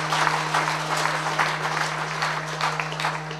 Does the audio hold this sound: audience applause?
yes